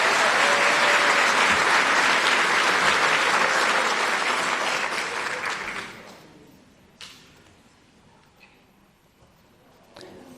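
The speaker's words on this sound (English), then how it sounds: "One more round of applause for game day cheerleading." Audience applause at a high school varsity sports award ceremony, loud sustained clapping from a large crowd for about six seconds, then fading to a few scattered claps and quiet room noise.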